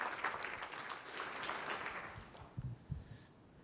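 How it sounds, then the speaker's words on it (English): Applause from a conference audience at a reports session, a steady wash of clapping across the whole stretch with a few louder claps near the end. "So Lorna, please, a big round of applause for a great idea to build great economics to the moon."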